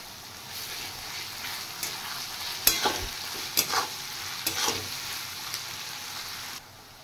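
Onion frying in a pan with steady soft sizzling and a few sharper stirring scrapes, close by, with no voices.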